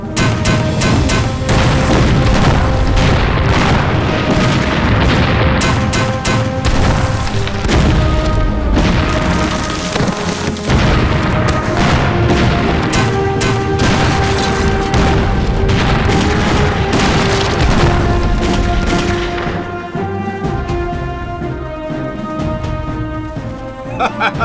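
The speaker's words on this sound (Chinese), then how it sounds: "这迫击炮屁股后面就加上这么一节，就能当攻坚炮" Mortar and artillery fire in a war-film battle scene, loud and relentless, with repeated booming blasts and crackling gunfire layered over dramatic music throughout.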